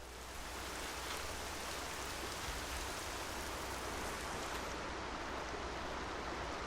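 Steady, dense rain falls in the video game Horizon Zero Dawn, a constant broadband hiss with no talking.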